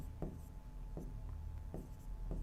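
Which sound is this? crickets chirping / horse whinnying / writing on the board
writing on the board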